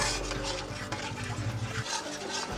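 Spice paste stirred and fried in a pan while cooking a vegetarian cabbage curry, with steady scraping and clinking of the spoon against the pan and a soft sizzle throughout.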